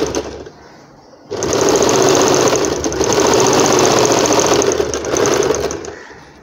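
Sewing machine stitching a double seam on the flared skirt of an umbrella frock, a loud, steady mechanical whir starting after a brief pause and running evenly to the end.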